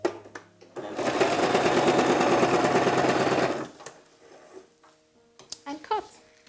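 A sewing machine stitches the seam of a little girl's dress in one sustained, loud burst of about three seconds, bracketed by quieter handling sounds and brief clicks before and after.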